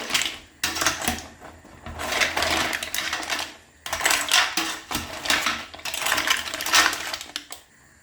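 Mussels being stirred in a pot, clattering shells and scraping in uneven bursts of rattling knocks, close and fairly loud with short pauses between stirs.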